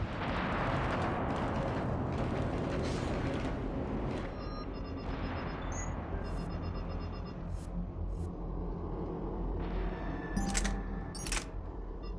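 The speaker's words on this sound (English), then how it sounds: "Gunfire. They are near." Dense, continuous rumble of distant battle with bursts of gunfire and booms, a steady wall of noise with a few sharp electronic tones near the end.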